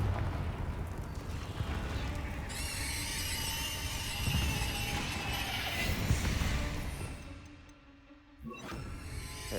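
A Confringo fire spell exploding in a wizarding video game, a sustained rumbling blast with crackling, whooshing debris that tapers off, then a brief fresh burst at the end.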